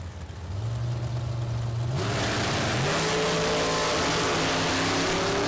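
A drag racing car with a freshly rebuilt engine roars at the strip in a loud, continuous blast. The engine pitch climbs steadily with one abrupt step partway through, and no voices are heard.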